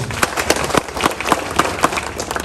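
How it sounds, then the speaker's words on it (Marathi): Villagers at a protest meeting against a municipal reservation applaud, with irregular claps mixed with crowd noise, fairly loud and close. "तुम्हाला सगळ्यांसाठी आपण एकदा जोरदार टाळ्या वाजवूया"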